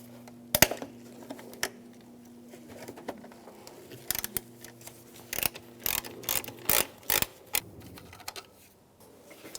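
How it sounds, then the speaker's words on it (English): A ratcheting socket wrench with a T30 socket removes a bolt from an ignition coil on a 2006-2011 Cadillac DTS, giving short close bursts of rapid clicking separated by quiet pauses. "Use a T30 socket, take this bolt out."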